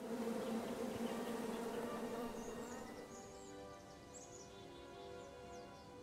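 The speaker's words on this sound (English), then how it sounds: "Okay, so we got some bees." Bees buzz steadily in the King's Quest video game, a close, continuous droning hum that eases a little partway through while faint bird-like chirps drift above it.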